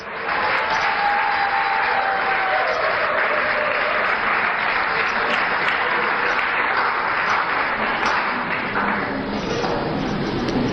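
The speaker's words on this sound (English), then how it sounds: "I think I need a better round of applause." An audience at a televised morning show event applauds, a dense, loud, steady clapping from many people that runs unbroken throughout, with no talk over it.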